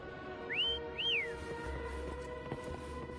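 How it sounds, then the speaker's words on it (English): Two rising-and-falling whistle notes used to call a creature in a video game, clear and fairly close over a low background hum, then fading to quiet ambience. "Try whistling."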